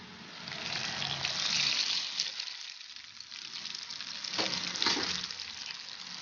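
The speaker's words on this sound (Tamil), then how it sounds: "நல்லா கிளறி விட்டுட்டு வறுத்து வச்சதை எடுத்து உள்ள ஆட் பண்ணலாம்" Cooked ven pongal is stirred in a pot before roasted tempering is added, making a steady soft sizzling, wet churning sound with a couple of spoon scrapes, faint and close, with no voices.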